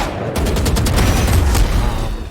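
Weapons fire in rapid automatic bursts in the video game Valorant, loud and close, with dense cracking shots over a deep booming undertone for the whole stretch.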